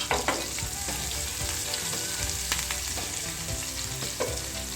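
Green chillies and chopped ginger fry in hot oil for a dahi bara dish, giving a steady, close, loud sizzle with crackling pops and a few stirring scrapes, with no voices.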